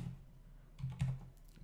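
A few keystrokes on a computer keyboard while writing C# code against a PostgreSQL database, quiet isolated clicks with small bursts near the middle and end.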